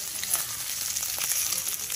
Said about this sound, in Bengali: মাছটা তেলের উপর দিয়ে দেবো, মাছটা দিয়ে নাড়িয়ে নেব।